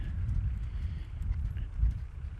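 Horse cantering around a circle and cone during lead-change training, its hoofbeats landing as a steady rolling rhythm of low thuds, close and moderately loud with no talk.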